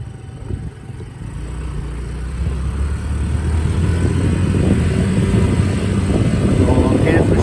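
A Honda SCV100 Lead scooter of about 8 horsepower pulls away and builds to a steady, loud engine drone with wind noise as the ride continues.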